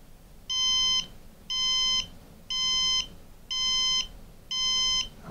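A MissileWorks RRC3 rocket altimeter emits five evenly spaced, sharp electronic beeps about a second apart, loud and close with quiet gaps between.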